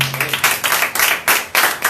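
A church congregation claps in praise during a service, with quick rhythmic handclaps in bursts over a short stretch, fairly close and lively.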